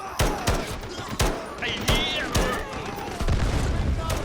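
Gunfire in the video game Delta Force during a Black Hawk Down story mission, a series of loud, sharp shots cracking roughly every half second, close and punchy, with a brief electronic chirp between them.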